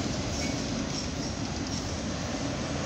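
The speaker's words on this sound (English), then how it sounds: "Maybe I should call this a CSX graffiti auto rack train here on the CSX" A northbound CSX auto rack freight train rolls past in Lima, Ohio, a steady, close roar of wheels and railcars filling the air without pause.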